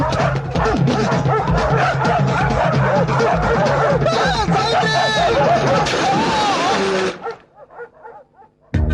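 Several dogs bark and yip loudly in an old Telugu film scene, overlapping with busy human voices and background commotion before the sound cuts to near quiet at the end.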